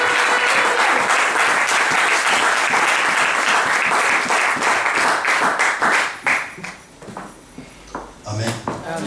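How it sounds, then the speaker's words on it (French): A church congregation applauds loudly, with dense, sustained clapping that fills the space for several seconds before thinning out and fading near the end as voices come through. "Acclamons très fort pour la gloire de Dieu."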